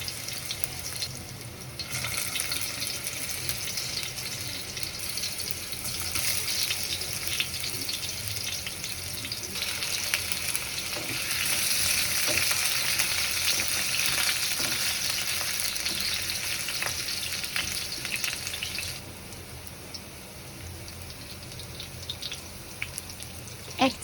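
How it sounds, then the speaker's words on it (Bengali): Pieces of elephant foot yam frying in hot oil in a kadai. A loud, continuous close sizzle crackles throughout, swelling fuller in the middle and then easing back with a few stirring clinks. "তেল গরম হয়ে গেলে ওলগুলো দিয়ে দেব।"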